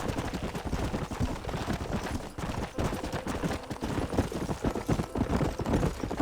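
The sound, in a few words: horse hooves while riding, from video game Red Dead Redemption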